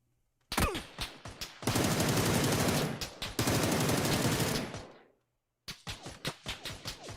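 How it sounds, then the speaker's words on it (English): Automatic gunfire rattles in an online shooter game, with short bursts of single shots, then two long, loud, continuous volleys and a final run of spaced shots, close and sharp. "They're shooting at me"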